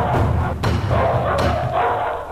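Sheepdogs bark as a radio-story sound effect, chasing off a howling wolf: loud, close, rapid barks in quick overlapping bursts with a rumbling low undertone.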